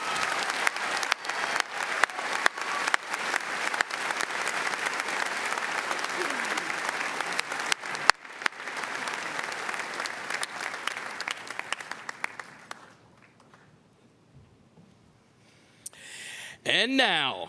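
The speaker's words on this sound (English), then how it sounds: "May we please have a round of applause for our 4 faculty awardees." Commencement audience applauds the four faculty awardees at a university graduation ceremony, a dense, sustained round of clapping that fades out after about twelve seconds, followed by a brief quieter stretch and a short burst of sound.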